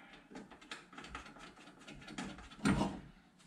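A window regulator handle is cranked on a 1970 Datsun 521 under restoration, giving close mechanical ratcheting and gear clicks that build to a louder clunk near the end.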